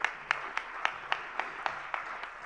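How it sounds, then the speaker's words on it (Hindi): An audience at a Jain religious discourse gathering in Agra claps for the teachers, heard as faint, distant, evenly spaced claps in a steady rhythm. "सभी शिक्षक शिक्षिकाओं के लिए जरा मिलकर तालियां बजा दीजिएगा"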